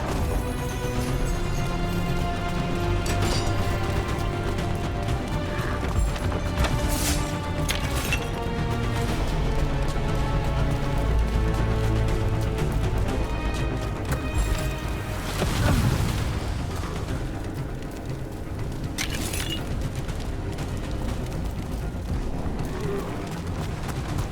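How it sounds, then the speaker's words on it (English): Cannon fire in Dragon Age: The Veilguard, a fantasy video game battle, sends heavy booms and crashing impacts through a dense, continuous mix of combat noise and game score, with voices heard in places. "Cannon fire! Get clear!"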